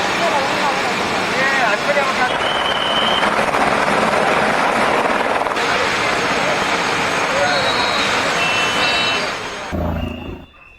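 A rescue helicopter works over flash-flood-hit Nepal, its dense rotor roar and engine noise filling most of the clip at close range before cutting away near the end.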